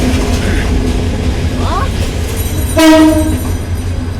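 The Dolonchapa Express, a Bangladeshi train pulled by locomotive 2907, rumbles steadily nearby, and a short, loud horn blast sounds partway through.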